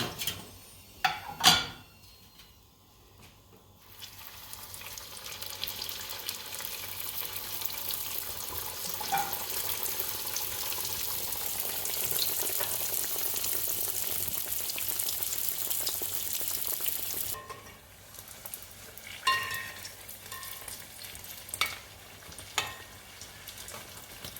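Aloo pies fry in hot oil with a soft, steady sizzle and crackle, set off by a few sharp knocks and clatters of utensils at the start and end.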